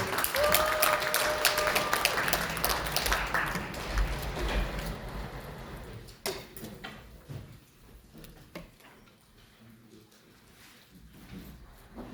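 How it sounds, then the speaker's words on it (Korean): A crowd at a citizens' assembly founding forum in Korea applauds to welcome two speakers, a dense burst of clapping for about six seconds that fades into scattered claps, thumps and background movement with some talk. "자, 박수로 맞이해 주시죠."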